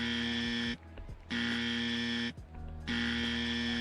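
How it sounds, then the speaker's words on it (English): A loud electronic buzzer blares in long sustained blasts, three of them separated by short gaps, during an eMLB playoff game set in Houston's ballpark. "Buzzer is working just fine in Houston"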